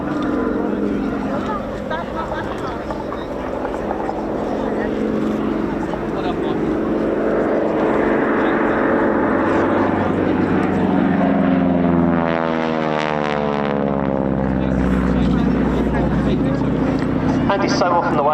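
A propeller training aircraft flies past at an air show, a steady loud engine drone that swells and shifts pitch as it passes, with a commentator talking over it.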